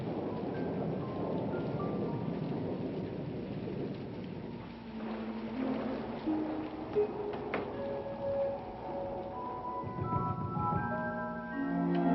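Steady heavy rain pours throughout a thunderstorm, with low rolling thunder swelling in the background and faint tonal sounds drifting over the downpour; no one speaks.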